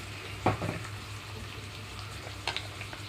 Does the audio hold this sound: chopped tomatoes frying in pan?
yes